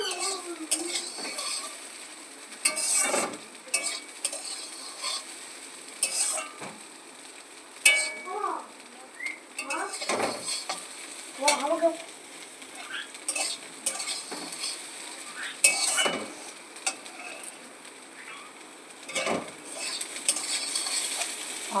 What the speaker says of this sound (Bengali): একটু আলু ভাজছি